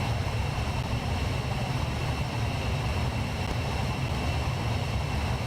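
An AX3 ultralight's engine in Microsoft Flight Simulator 2024 drones steadily near the runway, a loud, unbroken roar with a hollow, flanging sweep running through it and no pauses.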